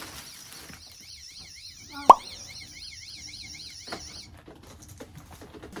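An electronic alarm with a warbling, siren-like repeating tone sounds steadily for about three and a half seconds at moderate distance, then cuts off, with a sharp plop partway through.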